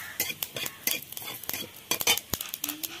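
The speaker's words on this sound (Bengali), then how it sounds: "সামান্য একটু দিয়ে দিচ্ছি কালো সরষে" Black mustard seeds sizzle in a little butter in a wok, giving close, scattered pops and crackles along with quick clinks of stirring.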